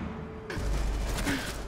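Gunfire in a Rainbow Six Siege match, a dense burst of rapid shots that starts abruptly and keeps rattling at close range, loud and steady, with no voices over it.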